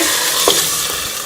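Water is poured into sizzling beef korma masala in a pressure cooker, and a loud continuous frying hiss fills the clip, with a brief stir or splash partway through.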